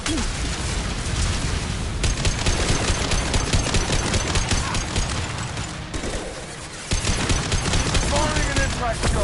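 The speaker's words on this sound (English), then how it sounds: "Firing an impact shot." Rapid, dense gunfire from impact shots in the video game Mass Effect 2, with sustained bursts of shots running nearly the whole time and a brief lull partway through.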